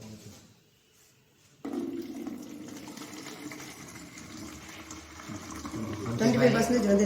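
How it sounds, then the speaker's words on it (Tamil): After a quiet pause, water is poured into a tank for a water-level indicator electrician project, starting abruptly as a steady gushing fill that grows louder toward the end, with someone speaking over it. "தண்ணி ஊற்றுறோம்."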